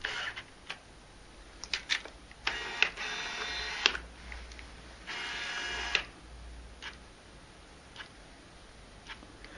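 Autofocus motor of a Nikon 70-210mm f4 lens mounted on a D7000 camera, heard as several short whirring bursts, each about a second long, with small clicks between them, close and moderately loud against a quiet background.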